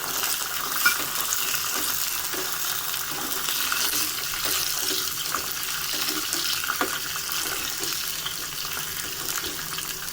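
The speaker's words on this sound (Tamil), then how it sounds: "நம்ம வந்து எடுத்து வச்சுருக்க முந்திரியை வந்து நெய்யில் வறுத்துடலாம்." Cashew nuts roasting in hot ghee for a vegetable pulav, giving a steady soft sizzle with faint stirring scrapes throughout, no voices.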